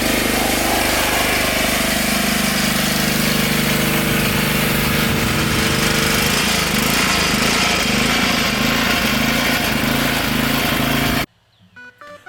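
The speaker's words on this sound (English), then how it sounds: "it's time to break out the power washer and clean up the cement" A gas power washer runs continuously, a loud steady engine drone with hissing spray while cleaning cement outdoors, cutting off abruptly near the end.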